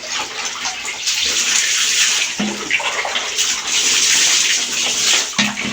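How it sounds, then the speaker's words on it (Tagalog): Running water pours and splashes steadily as a dachshund is bathed, a broad continuous wash of sound with brief shifts in the stream and a few soft knocks, no clear talking. "Paligo ako guys ng aming dachshund."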